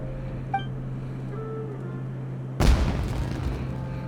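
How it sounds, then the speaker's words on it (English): A fireworks explosion in the video game Genshin Impact bursts suddenly as a single loud, broadband boom that rumbles on for over a second after a quiet stretch with a faint tonal chime. "Was that an explosion?"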